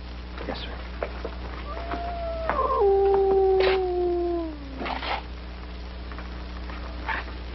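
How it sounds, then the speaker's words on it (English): A dog howls in a long, clear, falling wail lasting a few seconds, close and loud over a background hum, with faint voices and small noises around it. "a howling dog meant somebody was going to die"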